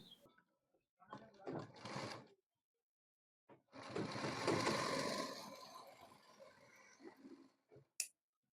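A sewing machine stitches a pocket onto a men's shirt, running in two bursts: a short run of about a second, then a longer steady whir lasting several seconds, followed by a couple of brief clicks.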